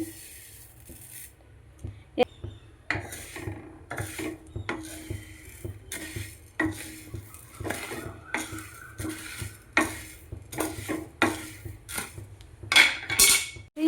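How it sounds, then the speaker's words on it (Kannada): A utensil stirs lentils and spices dry-roasting in a pan for homemade South Indian sambar powder, making continuous scraping and clattering strokes in an uneven rhythm, close and fairly loud. "ಎಲ್ಲವನ್ನು ಕೂಡ ರೋಸ್ಟ್ ಮಾಡ್ತಾ ಇದ್ದೀನಿ, ಎಲ್ಲ ಮಿಕ್ಸ್ ಮಾಡಿದ್ದೀನಿ ನೋಡಿ."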